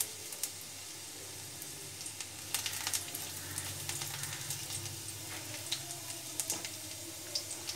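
Chopped onion and garlic fry steadily in hot oil, giving a close, continuous sizzle with scattered sharp crackles and no talking.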